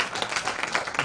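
Conference audience applauding in a hall, a dense continuous patter of many hands clapping at steady loudness throughout the brief moment, with no voices over it.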